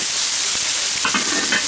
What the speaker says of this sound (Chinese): 泡菜、泡姜下锅炒香